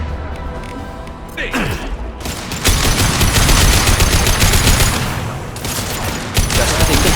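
Loud, sustained gunfire from the video game Mass Effect 2, with a quieter opening that erupts into dense, continuous bursts of shots and impacts, up close and filling the scene.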